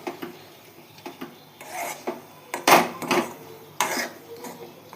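A mixture of Amul milk powder is stirred and fried in a pan, heard as a run of uneven rasping scrapes of a utensil against the pan, some louder than others, with no talk.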